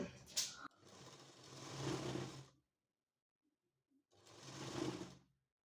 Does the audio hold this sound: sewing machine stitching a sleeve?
yes